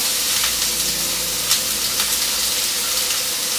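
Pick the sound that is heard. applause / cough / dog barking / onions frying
onions frying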